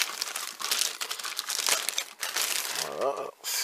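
Protective plastic bag crinkling as it is opened around a BS-982 automatic dispensing device, close rustles and crumples throughout, with someone speaking over part of it.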